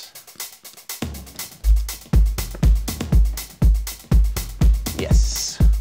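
An electronic drum loop: a deep, punchy kick thumping on a steady beat with crisp hi-hat ticks over it, no voices.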